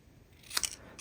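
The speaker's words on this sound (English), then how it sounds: "I'm just going to trim off the Christmas part" A pair of scissors trims stamped Christmas card paper in a quiet room, giving one short, close snip with a faint second cut just after.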